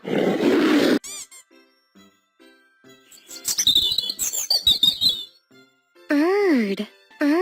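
A lion gives a loud, rough roar lasting about a second. Faint clicks follow, and a warbling bird call comes in near the end.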